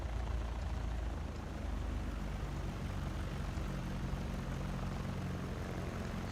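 A helicopter in the X-Plane 11 flight simulator gives off a continuous low rotor and engine drone, steady and fairly loud throughout, with no talk.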